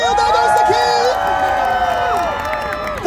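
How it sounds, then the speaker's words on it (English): Crowd at a Sheffield Christmas lights switch-on ceremony cheering and applauding, a dense, steady wash of shouts and clapping with high voices rising over it, with an announcer speaking through. "Round of applause, Sheffield."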